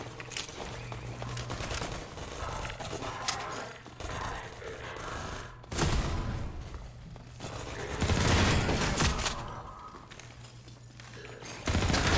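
Weapon fire from Half-Life 2 comes in rapid bursts and heavy blasts, loud and close among the crackle of combat, with brief gasps between the volleys.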